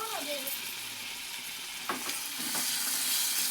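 Tomato, ginger and garlic fry in a pan for a potato and pea stir-fry with a dense, close sizzle and a couple of scraping stirs, while a voice briefly speaks at the start.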